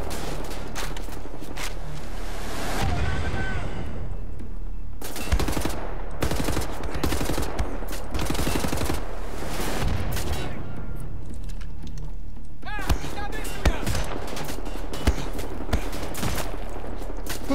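Bursts of automatic gunfire in the first-person shooter Wolfenstein: The New Order, rapid rattling volleys that come in separate stretches with quieter gaps between them, loud and fairly close.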